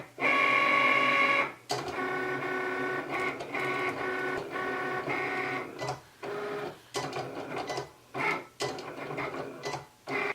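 A Cricut Explorer cutting machine cuts vinyl on a mat with a whirring motor hum and tonal mechanical whine that starts and stops in short bursts, close and moderately quiet with no talking.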